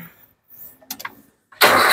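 An old car's engine cranks with a few short bursts, then catches and roars loudly into a steady, broadband run near the microphone.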